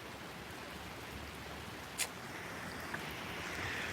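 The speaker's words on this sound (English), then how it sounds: "It is just absolutely pouring outside right now." Heavy rain pours outside during a thunderstorm as a steady, even hiss, with one brief sharp click partway through.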